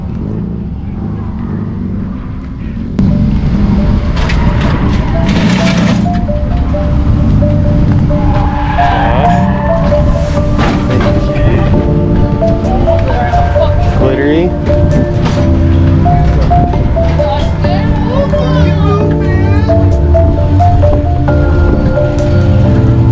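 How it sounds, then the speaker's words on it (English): Tires squeal continuously as cars drift at a drift clinic at Drift Indy Street League, loud engine roar and screeching rubber starting abruptly and sustaining throughout, with brief talk nearby. "That's what all the tire noise is."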